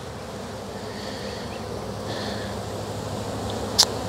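A honey bee swarm buzzes around a hive box outdoors near a fence, a steady, dense droning hum throughout, with a brief sharp click near the end.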